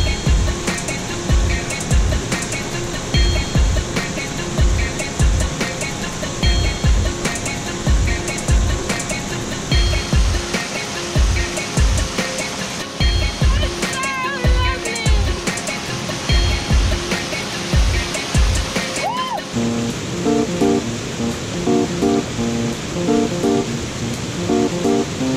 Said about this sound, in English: the waterfall coming all the way down the mountain